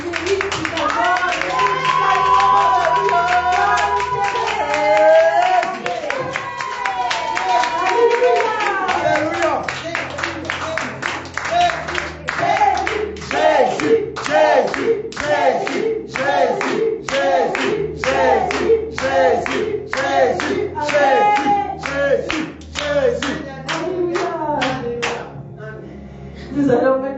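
A church congregation claps in worship during a French-language service, first with voices rising over the claps, then in sharp, rhythmic clapping in unison that continues for over twenty seconds at close range.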